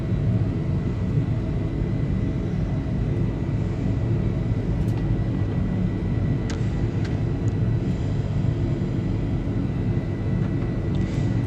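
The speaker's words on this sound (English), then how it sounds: "the 737, when it's reasonably light, does climb like a rocket" Boeing 737 climbing steeply after takeoff in a flight simulator, a steady, continuous engine roar and rumble holding even throughout with no talking.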